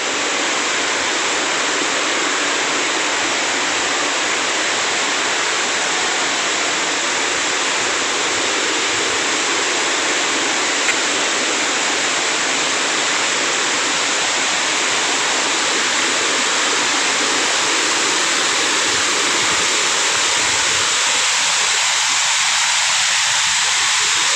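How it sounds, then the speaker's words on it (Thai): A continuous, loud rush of water from Khun Korn, a single-drop forest waterfall in Chiang Rai, holds unbroken for the whole span, close and even, with no voices over it. "ตอนนี้เรามาถึงน้ำตกแล้วนะครับ เห็นน้ำตกแล้วนะครับ"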